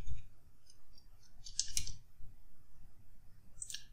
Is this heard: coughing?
no